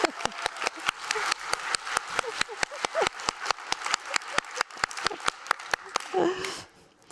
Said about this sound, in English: So, applause meter up.